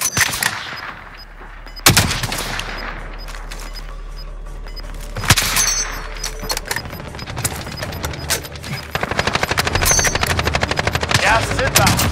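Automatic gunfire in the video game Call of Duty Warzone, a quads match: dense bursts of rapid shots with sharp loud cracks, fading to scattered shots, then a long sustained rattle toward the end.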